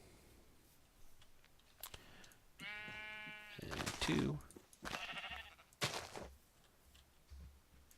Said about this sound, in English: ooh, black sheep